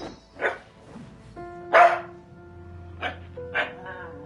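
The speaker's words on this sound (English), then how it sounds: "You're making him bark." A dog in Genshin Impact barks several times, short sharp woofs spaced irregularly over a few seconds, moderately loud, with faint game tones sounding in between.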